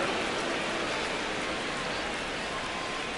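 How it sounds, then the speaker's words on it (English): Heavy rain pours at a baseball game as a dense, steady wash of hiss without a break, loud and even throughout. "It's pouring down rain"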